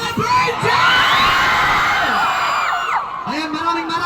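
Large outdoor crowd at a free concert in Roxas, Palawan cheering, whooping and yelling loudly and continuously, with high shouts and screams rising over a dense roar of voices.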